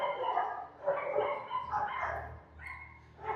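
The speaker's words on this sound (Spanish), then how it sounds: "hacer algo para que los perros no ladren" Several dogs bark and yip in quick, overlapping bursts, moderately close, with a whimpering edge to some calls and no talk.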